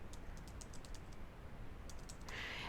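Typing on a computer keyboard to enter a domain name: a run of quick, faint key clicks, a pause, then a second short flurry over a steady background hiss.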